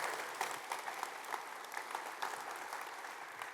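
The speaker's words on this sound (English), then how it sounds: "Please, round of applause" Steady audience applause at a tech conference keynote, many hands clapping in a dense continuous patter throughout, fairly close.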